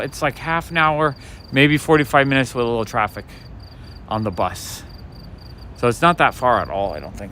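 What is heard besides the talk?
cricket chirping on a late-night Brooklyn street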